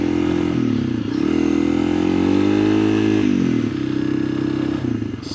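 A motorcycle rides through a soft sand wash, its engine droning loud and close with rhythmic revving that dips and surges as the bike labours, and no talking.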